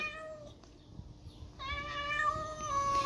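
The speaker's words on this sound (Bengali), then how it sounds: "এই যে ম্যাও ম্যাও করে যাচ্ছে" A house cat meows repeatedly nearby after being fed fish bones, a short call followed by a longer, louder drawn-out meow, with no speech.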